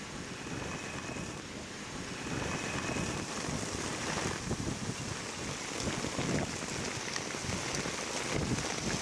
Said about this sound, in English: it is nothing short of a torrential rain that is happening right now